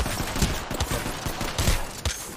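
Repeated gunshots from a gun in a video game, a rapid irregular volley of sharp loud cracks and thumps filling the whole moment without pause.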